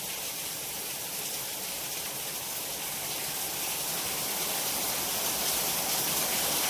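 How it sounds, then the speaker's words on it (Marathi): Heavy rain falls in an unbroken, loud hiss, swelling slightly toward the end, with no voices. "रपा रपा रपा चाललाय."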